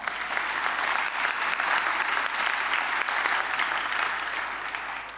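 Steady applause from an audience at an awards night in Los Angeles, a continuous dense clatter of clapping hands throughout.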